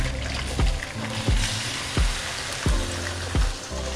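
Chicken mince sizzles and fries steadily in hot oil, a dense crackling hiss punctuated by regular soft thumps every half second or so, close and fairly loud with no talking.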